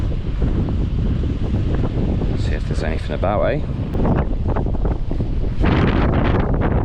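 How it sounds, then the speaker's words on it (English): Strong gusting wind buffets the microphone on a pier at night during squid jigging, a loud continuous roar that swells and eases, with someone speaking briefly over it. "Jeez, it's windy."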